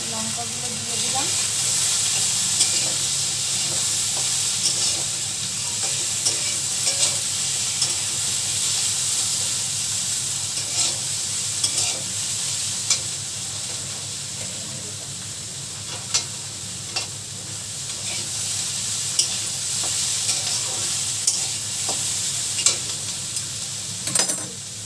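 Green chillies fry in hot oil in a home kitchen pan over a raised gas flame, with a steady loud sizzle and hiss running throughout and occasional sharp clinks of a spatula stirring.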